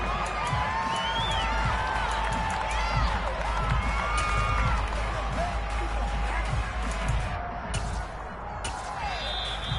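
Stadium crowd noise in a Madden football video game, a steady roar of cheering and applause throughout, loud and continuous, with faint commentary-like voices mixed in.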